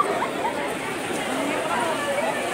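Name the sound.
dense crowd chatter at Pandharpur temple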